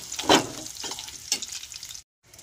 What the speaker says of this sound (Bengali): আলুগুলো প্রায় ভাজা ভাজা হয়ে গেছে